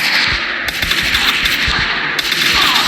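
Rapid bursts of automatic gunfire from the mobile shooter game Free Fire, loud and close, with repeated shots and sharp cutoffs, no voices.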